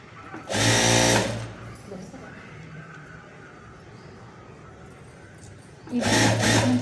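A sewing machine stitches a pair of pants in two loud, fast bursts, one near the start and one at the end, with quieter room sound and talk in between.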